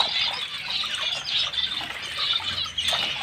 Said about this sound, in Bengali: এইভাবে জলে ভালো করে ধুয়ে নেবো